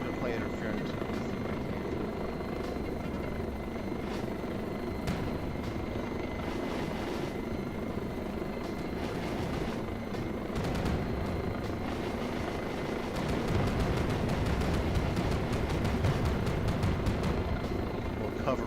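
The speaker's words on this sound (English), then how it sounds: "Obvious and Tebow flying in the same plane" Aircraft flying in the VRChat video game, a steady droning rotor-like engine roar that holds throughout and swells louder near the end, with voices talking over it.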